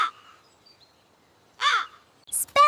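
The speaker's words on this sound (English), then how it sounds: "Crow." A crow caws in a few loud, harsh bursts separated by short pauses, standing alone with no other sound.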